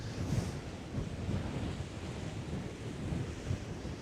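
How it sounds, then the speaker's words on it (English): Strong wind roars off the sea into a bay on the Bristol Channel at Brean Down, a steady broadband rush with surf and gusts buffeting the microphone, no voices. "It's that sort of weather where you've got this raging wind pushing into the bay"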